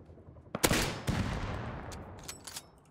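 Gunfire in the survival game Rust: a few sharp shots with a short burst in the middle, fairly close, then scattered fainter pops trailing off, with no voices.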